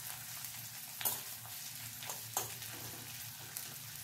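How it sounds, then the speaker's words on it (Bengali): Grated ginger frying in oil and gently stirred so it does not burn, heard as a quiet steady sizzle with a few soft spoon scrapes spaced a second or so apart, with no voices. "আদাটাকে একটু হালকা করে নাড়াচাড়া করছি, যাতে আদাটা পুড়ে না যায়"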